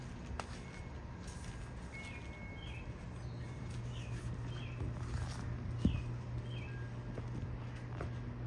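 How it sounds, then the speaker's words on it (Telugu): Small birds chirp in short, scattered calls from a large tree in a garden over a steady low rumble and light rustling, moderately distant. "అదొక వింటున్నారా, చిన్న పక్షులు అరుస్తూ ఉన్నాయి."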